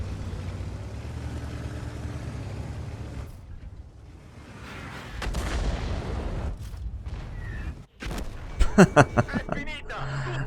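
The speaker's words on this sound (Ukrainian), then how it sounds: "Артилерія добрала." Artillery shells strike a tank in World of Tanks, with heavy booming blasts and a sustained low rumble, a brief near-silent gap, then a run of sharp, loud impact bursts near the end.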